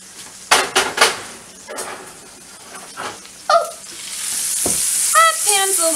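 Pork chops sizzle and fry in a pan with a steady hiss, interrupted by clattering and scraping of utensils against cookware; a few chirpy squeaks appear near the end as the frying noise swells.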